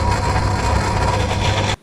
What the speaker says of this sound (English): now I'll switch the lathe on again and just show you how well centred the workpiece is